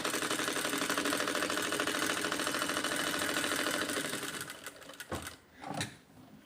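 A sewing machine runs steadily, its rapid rhythmic stitching chatter close and constant for about four seconds before slowing into a few uneven bursts and stopping.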